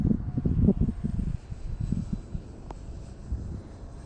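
A small RC plane on a 4S battery cruises at half throttle, its electric motor a steady, fairly distant drone with some wind rush around the microphone.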